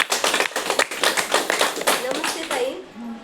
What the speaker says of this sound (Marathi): तर एकदा त्या ताईंसाठी जोरात टाळ्या वाजवायच्या आहेत